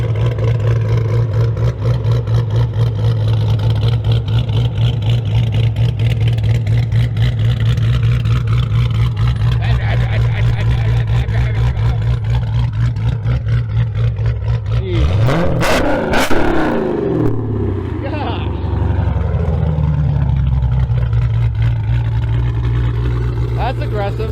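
A Hemi V8 with long tube headers, catalytic converters, a cam and a Borla ATAK exhaust idles with a loud, choppy rumble, then revs sharply and settles back, while people talk nearby.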